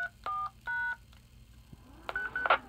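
DTMF keypad tones dialed into a repeater to enter remote programming mode, a few short distinct beeps followed by higher acknowledgment tones from the radio, faint over a low background hum.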